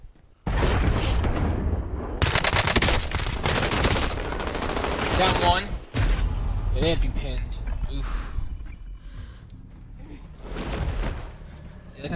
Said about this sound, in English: I can hear MG right now.